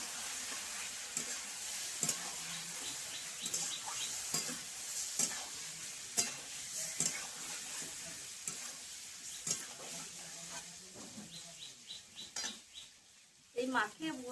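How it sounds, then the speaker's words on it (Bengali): Prawns being stirred in a sizzling pan for a coconut malai prawn dish, with repeated scraping spatula strokes over a steady close frying hiss and a louder clatter near the end. "এইভাবে আমি এরকম 2 মিনিট মতো একটু নেড়ে চেড়ে নেবো।"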